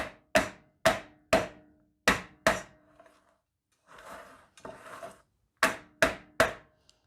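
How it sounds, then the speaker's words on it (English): Cupcake molds filled with keto peanut butter chocolate cheesecake batter are rapped on a counter: sharp, loud knocks in quick sets of three or four, broken by a short pause with faint shuffling. "you want to give it a little tap on the counter"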